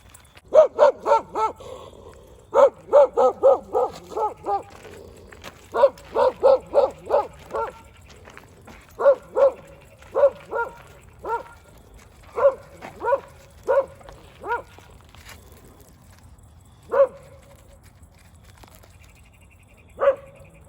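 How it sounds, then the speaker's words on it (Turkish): A stray dog barks repeatedly in bursts of rapid, sharp barks close by, the runs thinning out toward the end to a few single barks with gaps. "Tor diyor ki bu köpek neden havlıyor?"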